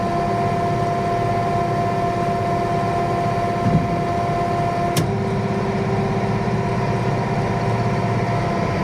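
A farm tractor engine runs steadily through the whole stretch, a constant droning hum with one brief click partway through, heard alone and close.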